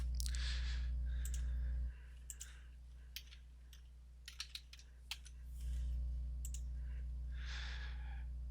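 Sharp computer mouse clicks, a scattered handful of single taps and a quick pair, near and distinct over a steady low electrical hum in a quiet room.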